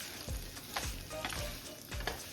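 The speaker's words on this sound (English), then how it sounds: "Now we're gonna give this a good toss." Pasta and shrimp with parsley are tossed in a hot pan, giving a continuous loud sizzle broken by several swishing tosses, heard close with no talking.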